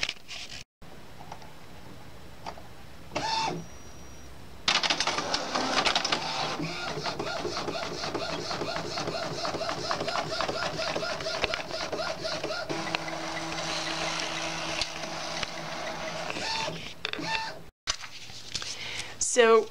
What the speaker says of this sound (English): I'm here at my Epson printer, and I'm just going to insert this into the printer, and it will come out down through here